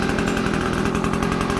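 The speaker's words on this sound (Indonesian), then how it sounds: "sambil memanaskan motor tuanya" An old motorcycle engine idles while warming up, a steady close chugging with an even, rapid pulse and no talk.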